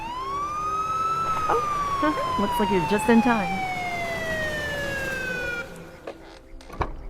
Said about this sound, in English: Don't let the sirens worry you.